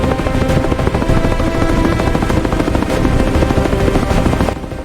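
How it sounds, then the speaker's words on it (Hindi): Helicopters fly overhead, their rotors chopping loudly in a dense, continuous thump that fills the whole stretch without pause. "हेलीकॉप्टर उड़ते हैं"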